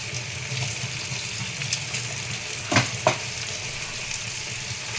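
Ginger garlic paste with turmeric fries in a pan for egg biryani, giving a continuous close sizzle with two brief utensil clicks partway through and no voices.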